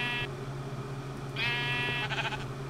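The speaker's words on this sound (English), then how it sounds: "Oh, sheep." Sheep in the video game Minecraft give two short, clear bleats about a second apart, loud and close against a quiet background.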